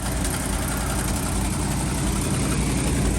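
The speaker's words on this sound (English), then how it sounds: "Give it a blip so it gets off the high idle." A 1974 Ford F350 dually ramp truck engine runs at high idle, a steady loud rumble with heavy low-end vibration and no change in pitch throughout.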